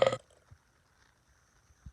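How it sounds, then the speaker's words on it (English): One loud, short burp at the very start, close to the microphone, followed by near silence with a couple of faint low thumps. "Who thinks they can burp louder than me?"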